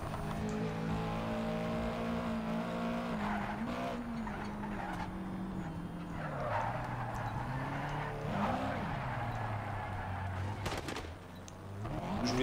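Project Cars 3 race car drifting, with the engine droning and sliding in pitch as tires squeal and skid in several bursts, a sharp crash-like hit near the end.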